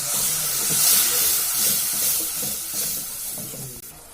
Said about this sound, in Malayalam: എടുത്ത് വെച്ചിരിക്കുന്ന വിനാഗിരി ഇതിലോട്ട് ആഡ് ചെയ്യും